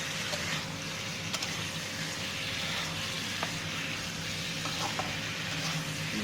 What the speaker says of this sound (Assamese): লৰাই ভাজি থাকিম এতিয়া।